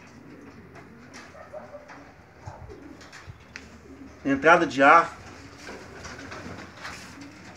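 Pigeons coo in a bamboo pigeon loft housing chicks, a short burst of throaty cooing rising midway under someone talking nearby.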